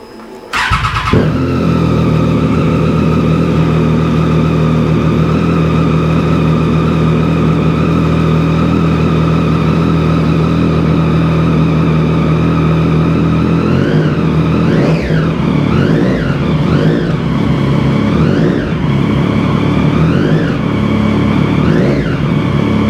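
A Triumph Street Triple 675 motorcycle engine cranks and catches, then settles into a steady close idle with a few sharp throttle blips toward the end, loud and alone.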